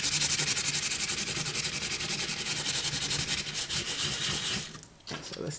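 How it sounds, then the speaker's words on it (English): Rapid back-and-forth strokes of 150-grit sandpaper rasp steadily and fairly close, a bright scratchy rhythm that pauses briefly near the end. "you can follow up with some finer sandpaper. This is like 150. And do a finer rub"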